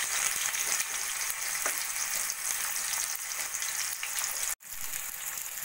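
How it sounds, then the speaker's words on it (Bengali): Thinly sliced onion fries in hot oil in a kadai, a steady close crackling sizzle that holds evenly throughout, broken by one brief dropout near the end. "পেঁয়াজটাকে একটু হালকা সোনালি করে ভেজে নেব"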